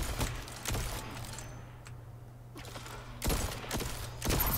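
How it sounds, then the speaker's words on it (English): Rapid bursts of gunfire come from a weapon in the shooter game Destiny, one volley at the start and another after a short lull, loud and close. "Crazy gun."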